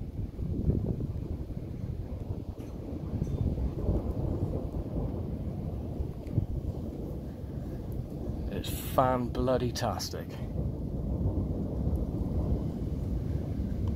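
Low, continuous rumbling thunder during a UK thunderstorm, with wind buffeting the microphone, and someone speaks briefly partway through.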